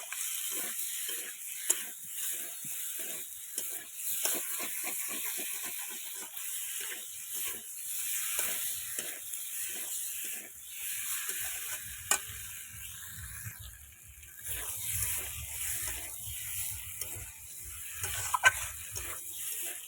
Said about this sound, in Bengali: এরপর দিয়ে দেব মটরশুঁটিগুলো দিয়ে কিন্তু খুব ভালোভাবে আলুগুলোকে কষিয়ে নিতে হবে মশলাগুলোর সাথে